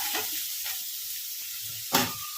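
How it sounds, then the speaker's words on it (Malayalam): Carrot, green chilli and curry leaves sauté in a pan with a steady soft sizzle, light stirring scrapes, and one brief louder clatter near the end. "ഇതിലേക്ക് ക്യാരറ്റും പച്ചമുളകും കരിയാപ്പിലയും കൂടി ഇട്ട് ചെറുതായിട്ടൊന്ന് വഴറ്റിയെടുക്കാം"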